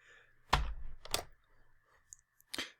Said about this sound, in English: if you hit Control-Shift-P